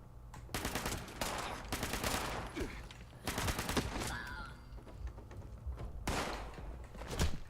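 Rapid bursts of automatic gunfire in a Fallout game crackle in several loud volleys with short gaps between them, coming from more than one direction.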